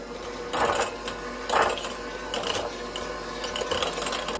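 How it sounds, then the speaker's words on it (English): An electric mixer beating cream cheese and sour cream together in a bowl, a steady close whir with rhythmic rattling swells as the beaters churn, and no talk. "Now you're going to beat the cream cheese and the sour cream together until smooth."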